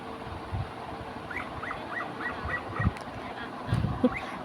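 A dog excitedly chases and clings to a person, giving a run of high, thin whimpering yips and short whines over low shuffling thumps, close by and moderately loud.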